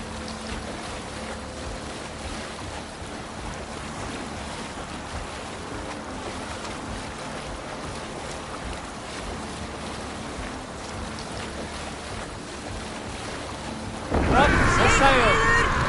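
Sailing ship gliding across the open sea in Assassin's Creed Valhalla, with a steady wash of waves and wind holding evenly throughout, then a sudden louder, brighter burst of splashing and activity in the final two seconds.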